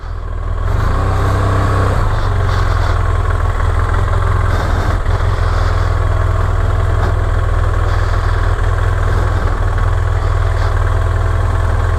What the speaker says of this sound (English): Let's see if I can drive the bike backwards.